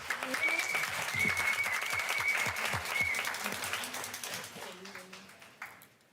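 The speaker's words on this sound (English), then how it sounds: "Let's give him one big round of applause." Audience applause at a regular meeting fills the room after a presentation, steady and dense clapping that slowly thins out, with some voices chatting underneath.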